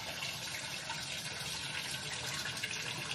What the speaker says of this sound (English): So we rinsed the noodles with cold water.